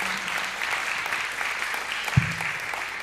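A church congregation applauds during an evening celebration service, giving a steady, dense patter of many hands at moderate distance with one brief thump near the end.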